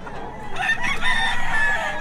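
Roosters, including a white choco-colored bird, crow and cluck close by, several overlapping calls filling the moment without speech.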